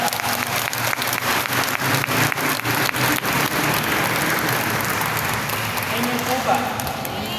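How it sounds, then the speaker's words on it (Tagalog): A congregation at an El Shaddai Friday evening healing gathering claps together, rhythmic and dense at first, then thinning into a looser patter, with voices mixed in throughout. "Tingnan niyo po yung palakpak niyo, walang power."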